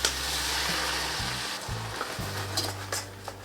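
Green pepper, banana pepper and tomato stir-fry in a pan with a soft, steady sizzle, accompanied by a low hum and a few light clinks and scrapes.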